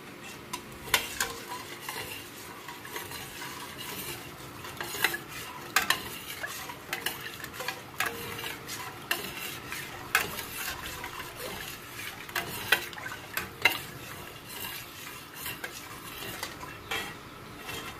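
A spoon stirs a bubbling cream mixture in a pot for a cathedral window dessert, with soft scraping and irregular clinks against the pot over a low simmering hiss, close but fairly quiet.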